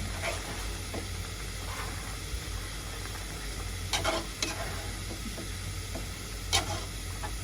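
Turmeric being stirred into milk in a pan: soft scraping strokes with occasional clinks of a spoon against the pan over a steady low hiss, faint and close, no voices.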